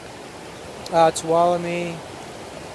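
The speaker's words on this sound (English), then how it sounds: "We just had to ford this stream here, which was a little challenging because of the higher water" A stream running high during a hike gives a steady, full rushing hiss that stays constant, while a person briefly speaks over it.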